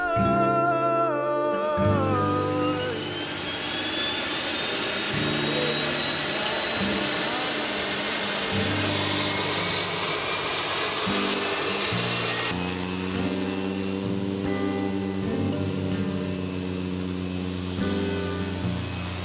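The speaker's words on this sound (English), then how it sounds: "This airplane had already made 3 runs and was heading out for another." A loud, droning airplane engine on a Hurricane Dorian relief supply flight, with shifting whining tones, sustained throughout and fairly close.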